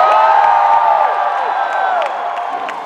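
A crowd at a BronyCon convention cheers and whoops, a bright mass of voices with a few sharp claps, fairly loud and close, fading slightly toward the end.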